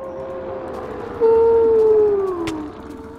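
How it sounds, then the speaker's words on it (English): A werewolf in Minecraft, on an island survival map, lets out a loud drawn-out howling growl that rises suddenly and holds for about a second and a half before fading, with no talk over it. "Stop growling. It's scaring me."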